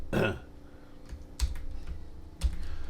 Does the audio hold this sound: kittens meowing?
no